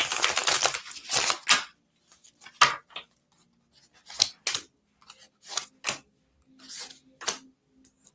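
Tarot cards shuffled by hand during a Libra reading, giving a loud riffling burst at the start followed by a series of short, sharp card snaps and flicks, close up with no talking.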